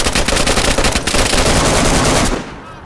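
Rapid automatic gunfire in DayZ, a loud, close, continuous burst of shots lasting a couple of seconds before cutting off into a fading echo.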